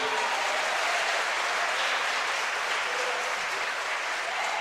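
A church congregation clapping for Jesus during a sermon, a loud sustained round of applause that fills the room evenly.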